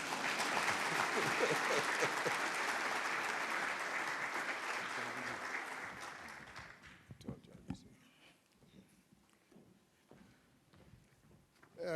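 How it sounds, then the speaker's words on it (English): Audience at a Namibian public-private forum claps steadily for several seconds as a dignitary walks to the microphone, then the clapping dies away, leaving scattered sounds and a voice beginning to speak. "the idea is that we clap until he gets to the microphone."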